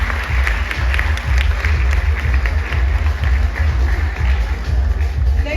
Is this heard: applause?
yes